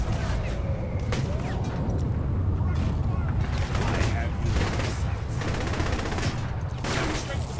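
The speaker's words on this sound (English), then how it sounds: "My minigun!" In the video game Saints Row 3, a minigun fires in dense, continuous bursts layered with other gunfire and mechanical clatter, while voices talk over the barrage.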